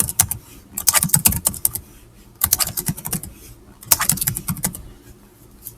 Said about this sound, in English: So I'm going to type this in now.